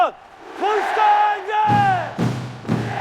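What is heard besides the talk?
labor union protest battle cries with kkwaenggwari gong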